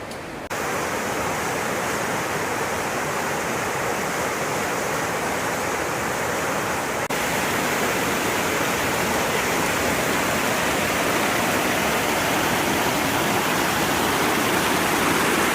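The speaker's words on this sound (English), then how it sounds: "Just a little side river that comes down, but everything's all swollen" A swollen side river rushes past an Appalachian Trail crossing, a loud, close, continuous roar of churning water with no pauses and no voices.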